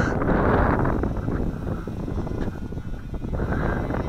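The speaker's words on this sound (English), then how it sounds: "Just gentle throttle on this to fight that wind." Gusty wind buffets the microphone outdoors while a WLToys F959 Sky King three-channel RC airplane is flown, a broad rushing roar that swells loudest at the start and then fluctuates.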